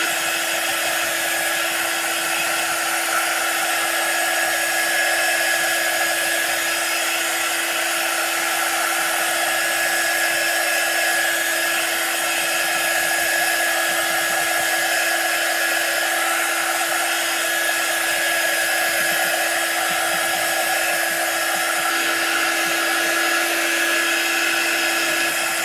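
Hair dryer blowing steadily to dry a chalk art piece, a loud, constant whooshing whine with a sustained tone that continues unchanged throughout.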